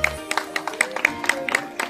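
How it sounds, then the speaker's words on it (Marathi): An audience claps at a neighbours' family get-together, a thin scattered applause of separate sharp claps in an uneven rhythm, moderately near, with little talk. "जोरदार टाळ्या झाल्या पाहिजेत."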